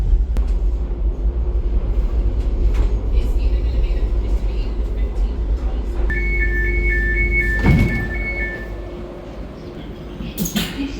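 Steady low rumble of a new DLR light rail train rolling along, with a two-tone electronic chime partway through, a heavy clunk, and faint background voices.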